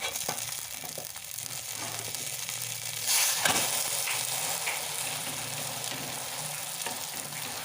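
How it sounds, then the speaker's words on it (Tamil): Prawn omelette frying in plenty of oil in a pan, a steady close sizzle and crackle throughout with a brief louder burst of spitting partway through, no voices. "ஆம்லெட்டை திருப்பி போட்டுக்கலாம்."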